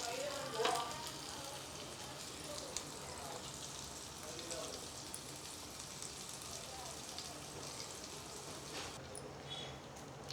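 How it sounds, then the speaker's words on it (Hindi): Seekh kebabs fry in a pan with little oil, giving a soft, continuous sizzle with faint crackles throughout, quiet and steady. "उलटते पलटते सीख कबाब को मैंने फ्राई कर ली हूँ"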